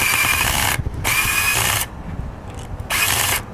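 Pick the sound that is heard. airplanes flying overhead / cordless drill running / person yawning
cordless drill running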